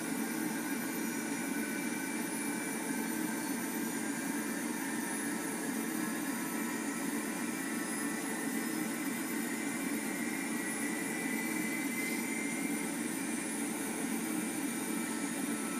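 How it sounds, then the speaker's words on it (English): Steady, unbroken jet engine roar from an A-10 spooling up, a dense broadband whine and rush holding constant in level throughout, with no voices over it. "Okay, so we see that the engines are spooling up."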